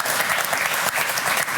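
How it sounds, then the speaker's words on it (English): Studio audience applause at a live television sports-comedy panel show fills the moment, a dense, steady wash of clapping from a large crowd that stays loud and even throughout. "A very generous crowd to be clapping that."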